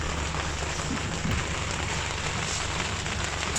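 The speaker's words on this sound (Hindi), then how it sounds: "ये आप देख सकते हैं कितनी बारिश हो रही है।" Steady dense rain hiss fills the whole clip, a constant wash of drops on surfaces with a faint low rumble beneath, no voices.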